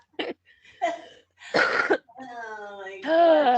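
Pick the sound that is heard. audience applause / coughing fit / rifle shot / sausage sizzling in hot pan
coughing fit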